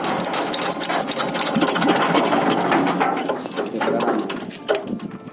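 A machine engine being serviced in the field at a toll road site near Banda Aceh runs with a close, busy rattling chatter, steady throughout with slight surges as it is throttled up.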